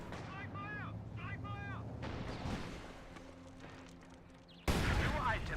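Landmine blast in Company of Heroes 2: a sudden loud, broadband explosion bursts in near the end, following steady battlefield rumble with distant gunfire and a voice talking over it.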